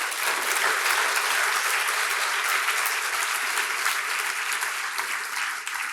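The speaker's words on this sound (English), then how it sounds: "Let's give them a round of applause, please." An audience at a diversity forum applauds speakers and panelists with sustained, dense clapping that stays steady and loud for several seconds, no voices rising above it.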